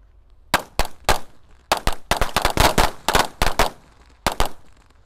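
Roman candle fireworks set inside a bottle fire sharp bursting pops in an irregular series, some quick in succession, loud and close, with brief pauses between volleys.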